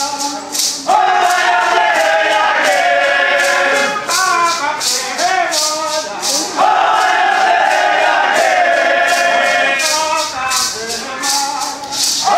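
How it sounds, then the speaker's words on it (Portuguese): Audience at a Fulni-ô performance in Rio de Janeiro's Museu do Índio breaks into loud, continuous clapping and cheering that fills the whole stretch, with voices shouting over the dense applause. "Uma salva de palmas para nós."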